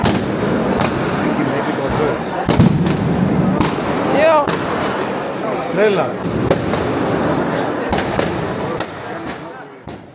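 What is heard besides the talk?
fireworks and firecrackers at Greek Easter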